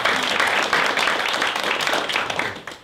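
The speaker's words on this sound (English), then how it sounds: "So a round of applause for Jeffrey." Audience applauding steadily for a videographer at a Long Island Grown Series event, a dense continuous wash of many hands clapping that holds loud for nearly three seconds, then briefly dips near the end.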